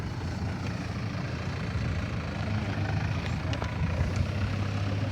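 A Bauer diesel pump unit runs for a pivot irrigation system in a field in Buriram, Thailand, giving a steady low engine drone that holds constant throughout without any speech.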